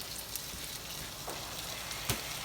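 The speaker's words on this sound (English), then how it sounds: "we're just going to let this saute again just for a few minutes before we add the tomatoes" Jalapeno and chopped vegetables sauteing in a pan for charro beans, a steady soft sizzle with faint crackles throughout and a small pop near the end.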